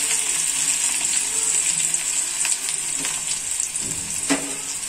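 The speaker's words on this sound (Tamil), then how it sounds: "வெங்காயத்தை நல்லா வதக்கிக்கலாம்." Onions frying in oil with mustard seeds and garlic for a tamarind curry with turkey berries, a loud continuous hiss with scattered pops and a few stirring clicks, close and steady throughout.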